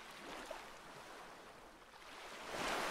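Ocean waves from the video game Shin Dig, part of a nautical-themed setting: a soft, steady wash of surf with a gentle swell that builds louder near the end.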